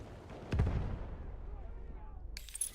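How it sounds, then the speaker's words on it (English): A grenade detonates underfoot in the World War I shooter Battlefield 1, one muffled thump followed by a fading rumble and a faint higher ring near the end. "Oh, I just stood right on top of that grenade."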